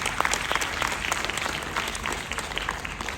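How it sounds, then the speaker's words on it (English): Audience applause at a panel discussion on agile organisations, a dense steady clatter of many hands clapping throughout, moderately loud and without speech over it. "Please give a big applause"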